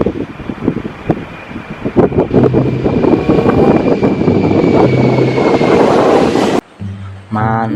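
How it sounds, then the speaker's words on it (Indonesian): A fixed-wing airplane passing overhead, a loud roaring engine drone with wind buffeting that builds and holds before cutting off abruptly, followed by a short burst of talking. "lihat teman-teman, ada pesawat terbang teman-teman"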